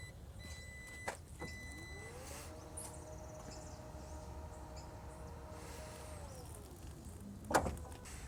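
Power tailgate of a Jeep Commander Limited TD380 closing, a quiet motor whine rising, holding steady, then dropping away, ending with a soft latch thunk against faint background noise.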